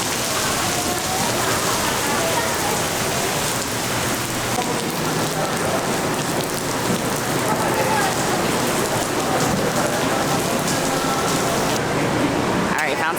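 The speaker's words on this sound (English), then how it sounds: "It is absolutely pouring rain now" Heavy rain pouring down at a mall in Manila, a dense, loud, unbroken wash of drumming water that fills the whole stretch, with faint voices blended underneath.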